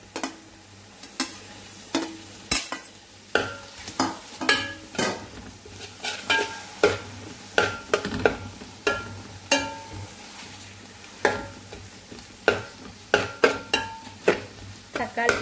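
Tomato being stirred and fried with browned onions for a Kerala-style beef curry, a spoon scraping the pan in a steady run of sharp knocks over a low continuous sizzle, close and fairly quiet.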